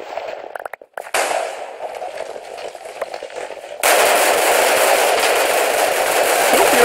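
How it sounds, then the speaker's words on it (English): Explosion in a shooter video game, a dense crackling burst of blasts and pops that flares up, then a sustained loud roaring rumble of detonations filling the rest. "I almost killed myself in an explosion."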